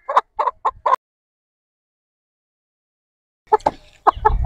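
A hen clucks in a quick run of short, close calls, falls silent for a few seconds, then resumes with another cluster of clucks amid some rustling.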